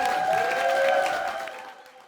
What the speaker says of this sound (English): Everyone watching at home, let's give a round of applause for Mia for an absolute fabulous performance